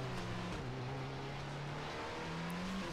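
An AMX 13 57 light tank engine in World of Tanks drones and revs steadily with a high, racing-car-like whine, loud and continuous with no talk.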